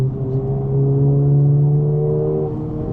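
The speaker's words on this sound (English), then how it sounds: "And I love how it sounds with this exhaust." A Honda Civic Type R FL5 fitted with an aftermarket exhaust gives a steady, droning engine note that swells slightly and then eases, heard close and alone.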